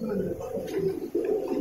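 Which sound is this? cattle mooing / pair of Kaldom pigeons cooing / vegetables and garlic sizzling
pair of Kaldom pigeons cooing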